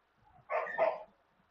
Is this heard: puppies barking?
yes